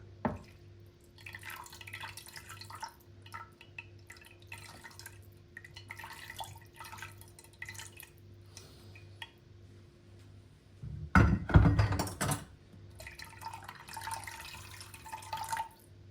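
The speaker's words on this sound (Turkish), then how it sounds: "Şimdi şuraları bir suyla yıkayıp bununla sıcak suyla" Parts of a home olive oil press are rinsed under a running tap, with a quiet steady trickle and drips, occasional light clinks, and a brief louder gush of water near the end.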